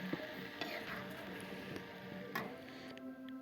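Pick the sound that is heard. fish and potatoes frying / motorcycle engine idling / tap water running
fish and potatoes frying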